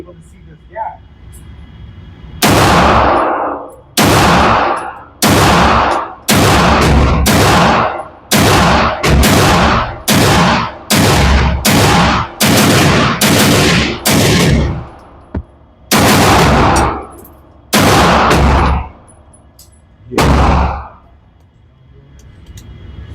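Loud pistol shots ring out one after another at outdoor steel range targets, about fifteen sharp cracks in an irregular rhythm with short pauses, fired from Girsan Match X, MAC9 DS and similar handguns.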